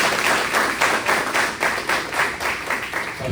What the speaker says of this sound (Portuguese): pode dar um forte aplauso ao Senhor pela vida do pastor